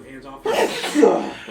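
A single sharp sneeze bursts out mid-conversation during a casual podcast chat, loud and close, with people talking just before and around it.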